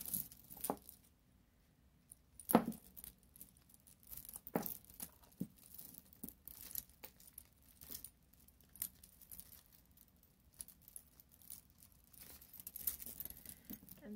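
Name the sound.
beaded chain necklace being handled and untangled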